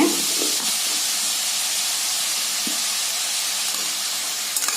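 Potatoes sautéing with beetroot and onion in a pan for a beetroot potato poriyal, giving a steady, continuous sizzling hiss with faint scraping clicks throughout, no voices.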